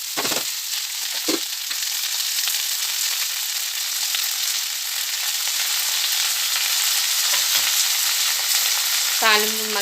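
Chopped cluster beans sizzle in hot oil tempering in a pan, a loud, steady frying hiss with a few spoon scrapes and knocks as they are stirred, close up and without talk.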